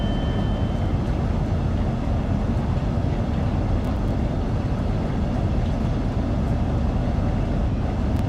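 Southeastern High Speed train driving in Train Sim World 2, a steady loud rumble of wheels and motors running continuously with no pauses or talk.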